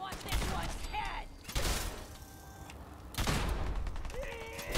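Bursts of gunfire in the video game Fallout 4, three loud volleys spaced about every one and a half seconds, each decaying into a rumble, with game effects and sparse tones in between.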